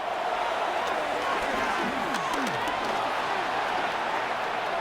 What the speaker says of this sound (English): This crowd, they're trying to force a false start. What noise before third and inches.